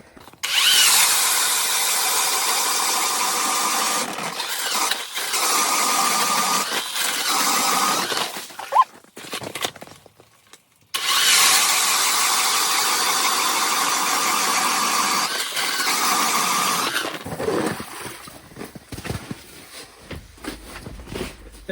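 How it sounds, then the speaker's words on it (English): A motorized ice auger bores through lake ice in two long, loud bursts of steady grinding whine, separated by a short pause with clunks, then the engine drops away near the end. "I'm gonna drill 3 holes here. 2 for rods and 1 for my sonar and camera."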